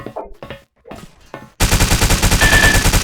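A few spoken words give way to a loud, rapid burst of automatic gunfire in the video game Blockade 3D, a steady stream of close, sharp shots.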